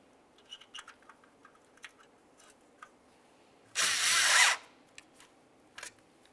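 A cordless power driver briefly spins a single mounting nut onto a grille badge of a 2003–2011 Mercury Grand Marquis, one loud whirring burst of under a second amid small clicks and handling noises.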